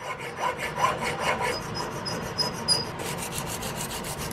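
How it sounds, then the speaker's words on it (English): A hand file rasps back and forth across the rear sight of a flintlock Hawken rifle, a close, steady series of scraping strokes, with no one talking. "We're coming in with a file."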